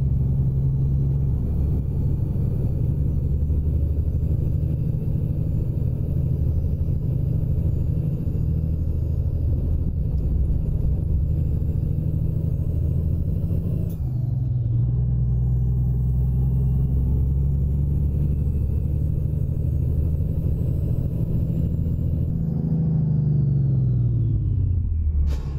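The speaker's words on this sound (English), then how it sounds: "you hear that there, the engine of that Pepsi truck going by" A heavy Pepsi truck engine in American Truck Simulator rumbles loudly and steadily, droning low as it passes, with the pitch shifting near the end.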